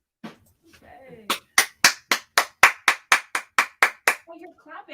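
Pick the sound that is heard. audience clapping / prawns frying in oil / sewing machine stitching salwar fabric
audience clapping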